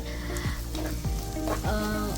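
A continuous sizzle of shallots sautéing in hot oil, close and steady, with a few soft scraping sounds of stirring.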